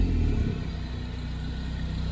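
A Zenos E10s sports car rounds a bend with a steady mid-pitched engine drone, loud and close, its revs easing slightly through the turn.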